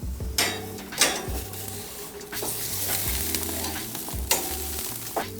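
Strip loin roast of beef searing in a screaming hot pan, with a steady loud sizzle and crackle of fat and a few sharp metallic knocks and scrapes of utensils against the pan.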